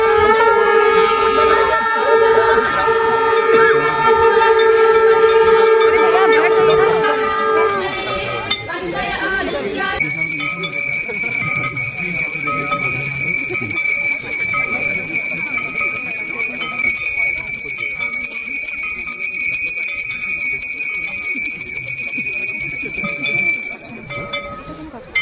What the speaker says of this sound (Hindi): जैसे ही शंख की आवाज़ गूंजी पूरा माहौल डिवाइन हो गया।